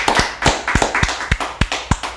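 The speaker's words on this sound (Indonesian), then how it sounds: "Sekali lagi tepuk tangan untuk Evelyn" A handful of separate claps for Evelyn during a podcast, about nine sharp close hits in an uneven rhythm, with no talk over them.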